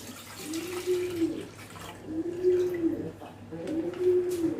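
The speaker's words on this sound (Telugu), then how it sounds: "ఇక 1/2 లీటర్ పాలు పోస్తుందండి." Half a litre of milk pours into a pot for making kulfi, giving a soft, steady liquid stream in three short pours against a quiet, hissy kitchen background.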